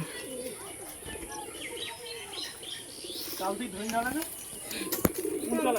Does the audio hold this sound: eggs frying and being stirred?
no